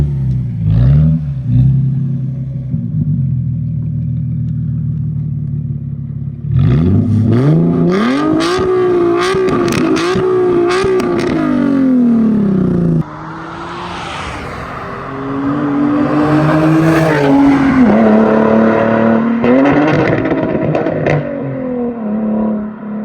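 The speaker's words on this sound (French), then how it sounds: "que vous puissiez aussi imager un petit peu le son que la voiture fait d'extérieur, qui est absolument oufissime" A Nissan 370Z heard from outside the car, engine revving loudly and pulling away in several long rising and falling sweeps as it drives past, with no talking.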